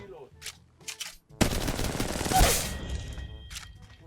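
Gunfire in the mobile game Apex Legends Mobile: a few sparse shots, then a sustained rapid automatic burst, loud and close, with scattered single shots trailing off.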